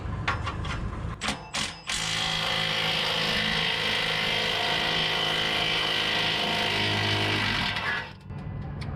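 A small impact wrench driving a swivel socket on a bolt of a blown-engine Infiniti G35: a few short bursts, then one loud, steady, close buzzing run of about six seconds that stops abruptly.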